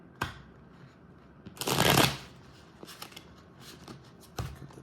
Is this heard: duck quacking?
no